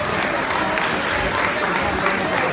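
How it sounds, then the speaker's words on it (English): Steady applause from a crowd at an amateur boxing match between County Antrim and County Dublin, continuous dense clapping with some voices mixed in. "Big round of applause for both lads."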